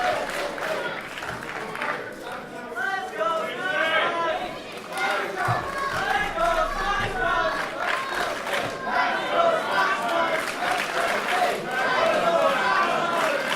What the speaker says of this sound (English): The crowd here getting firmly behind Chris Ridgway.